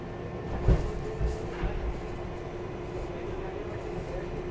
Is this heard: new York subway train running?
yes